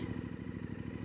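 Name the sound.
Suzuki DL800DE motorcycle engine revving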